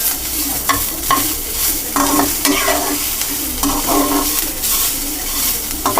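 Food sizzles and fries in a pan while a utensil scrapes and stirs it in repeated strokes, sautéing for a tomato kuzhambu with salt added. The sound is close, with no talking.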